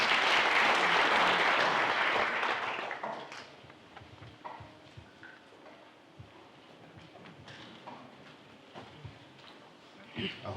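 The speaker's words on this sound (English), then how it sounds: "let's give her another round of applause" An audience at the SANParks National Parks Week launch at Marakele National Park gives a loud burst of applause for the park CEO, which fades after about three seconds into scattered faint claps and room noise.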